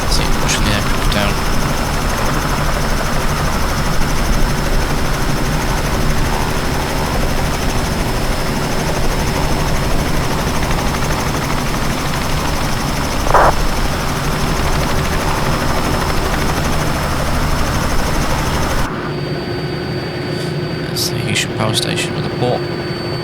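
A Robinson R66 turbine helicopter flying around Lancaster from Blackpool produces a loud, unbroken cabin drone of engine and rotor with a steady whine, holding constant before the tone shifts and thins slightly near the end.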